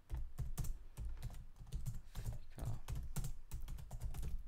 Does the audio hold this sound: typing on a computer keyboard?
yes